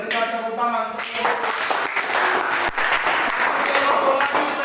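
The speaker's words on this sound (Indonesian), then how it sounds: "Berikan tepuk tangan." Applause from a classroom audience in a practice teaching session, a steady dense wash of clapping lasting throughout, fairly close and loud, with some voices mixed in early on.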